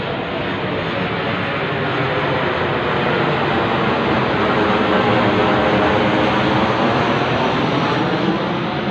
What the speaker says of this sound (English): the plane is still coming